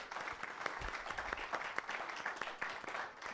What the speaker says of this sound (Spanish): Le damos un aplauso al Señor en esta noche.